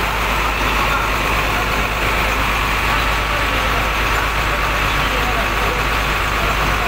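An ALS 330 bus engine idling smoothly and evenly, with no stumbling, making a steady, loud, close rumble that holds constant throughout.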